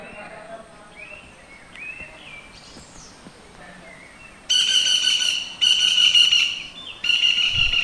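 Several birds call around a forest-department eco-tourism property at Lataguri, with faint whistles and chirps giving way to loud, repeated bursts of bright harmonic calls close by.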